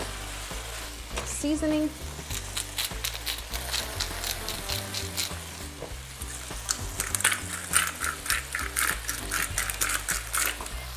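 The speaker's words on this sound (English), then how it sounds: "Browning all the steak." Steak browns in a hot pan with a steady sizzle, joined by clinks and scraping of utensils; a brief voice speaks over the frying near the start.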